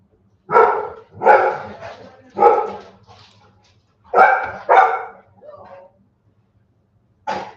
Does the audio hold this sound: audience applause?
no